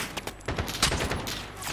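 Rapid gunfire from a multiplayer shooter, with an AK-47 mentioned, rattling in dense overlapping bursts for nearly two seconds, loud and continuous with sharp transient cracks.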